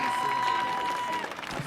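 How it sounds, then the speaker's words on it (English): An audience claps for the 2020 DC Youth Poet Laureate at the Millennium Stage, a short burst of steady applause with voices talking over it. "can y'all keep clapping?"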